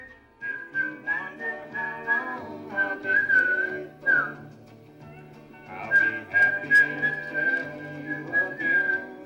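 Whistling at a whistlers' convention, a clear sustained melodic whistle running in two long phrases with a short pause between them, close and alone.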